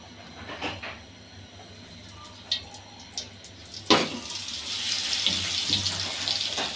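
Ingredients for a hilsa fish roe dish go into hot white soybean oil in a wok. A few close clicks and knocks come first, then a loud, steady hiss of frying takes over and keeps going to the end, with no talking.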